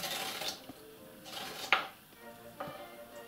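A teaspoon scrapes seeds out of a halved fruit for a quinoa tabbouleh, giving a few quiet, separate scraping and clinking strokes spaced about a second apart against near silence.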